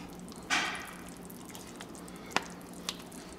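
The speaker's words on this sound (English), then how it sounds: "So this is 16 ounces of sour cream. I'm gonna put 1/2 of that in." Sour cream spooned into a slow-cooker steak and potato beef soup makes one soft, wet plop, followed by two small, brief drips and taps, all fairly faint and with no talking.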